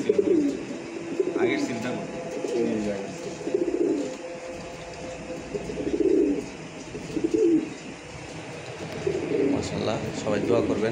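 Racing pigeons coo in repeated low, throaty phrases close by, with bursts of cooing recurring every second or two and a few faint chirps, while a person speaks briefly over them.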